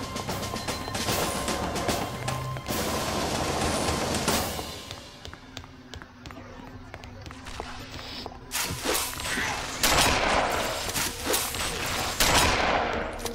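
Shotgun blasts in the Halo video game, repeated loud gunfire bursts among clattering combat sounds and footsteps, with a player talking intermittently.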